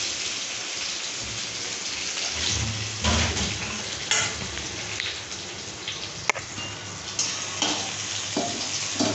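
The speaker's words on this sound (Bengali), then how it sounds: "বেগুন ভাজা ভাজা হয়ে এসছে, লাল লাল হয়ে এসছে।" Eggplant pieces frying in hot oil, browned and nearly done, with a steady close crackling sizzle and occasional louder sputters and scraping stirs throughout.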